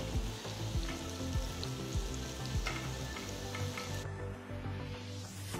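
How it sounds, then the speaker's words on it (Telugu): Batter-coated okra pieces fry in hot oil with a dense, continuous crackling sizzle, close and fairly loud, with a few soft clicks of a utensil and no talking. "నూనె వేడెక్కిన తర్వాత ఇందులో కోట్ చేసిన బెండకాయ ముక్కలు వేసి గోల్డెన్ బ్రౌన్ రంగులోకి మారేంత"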